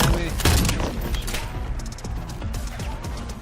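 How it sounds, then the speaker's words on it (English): Gunfire in the video game Call of Duty Black Ops 7 erupts in a loud opening volley, then continues as scattered shots and impacts under faint speech. "they're already shooting at me"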